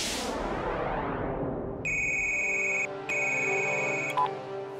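A phone rings with repeated electronic tones in two bursts, loud and close, following a fading swell of background music, with no talk over it.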